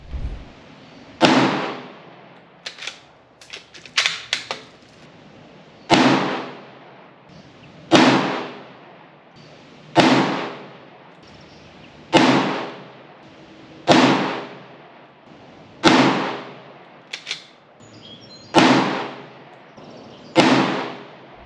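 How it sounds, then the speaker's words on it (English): Mossberg rifle shots fired for groups at a range, about nine sharp loud reports at even intervals of roughly two seconds, each with a short decaying echo. Smaller clicks and clatter come between the early shots, and nobody speaks. "let's just shoot some groups here and see what we get for our baseline"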